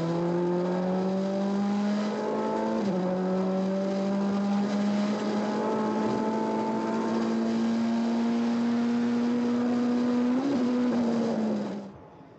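A Mini WRC rally car powers through a stage at the Galway International Rally 2012, its engine note climbing steadily in long, loud pulls with a brief gear-change dip, then cutting away at the end.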